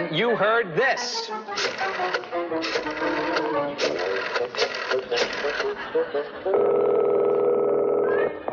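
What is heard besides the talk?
telephone ringing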